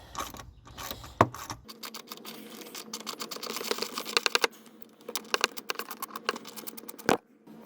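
Hand tools work to free a car's fan shroud, giving a quick run of close, rapid ratcheting clicks and small metallic taps and knocks, with brief pauses between bursts and no talking.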